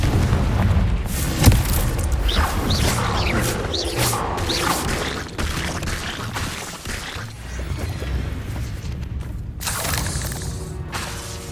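A Confringo spell in Hogwarts Legacy lands in loud, booming fiery blasts amid dense combat effects. A sharp impact near the start is followed by rumbling, crackling explosions and whooshes that continue throughout.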